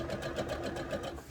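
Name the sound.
sewing machine stitching wrestling tights seams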